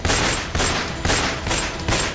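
Pistol shots ring out during indiscriminate firing by gunmen at a petrol pump in Delhi: four loud, sharp reports spaced evenly about half a second apart.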